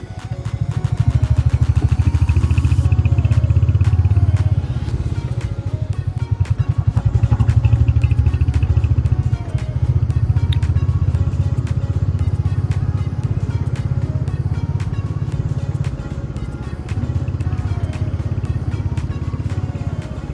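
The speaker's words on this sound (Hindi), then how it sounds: "बाइक चलाने में भी मज़ा आ रहा है।" A Royal Enfield Hunter 350 motorcycle ridden along a hill road produces a loud, close engine drone that stays steady for the whole ride, with no speech over it.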